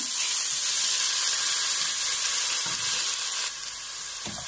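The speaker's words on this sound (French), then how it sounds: "Dans ma casserole, je rajoute l'huile rouge. Je vais rajouter une partie de l'oignon émincé, haché" Minced onion sizzles in red oil in a saucepan, a loud, dense, steady hiss close by, with faint stirring knocks and a slight drop in intensity midway.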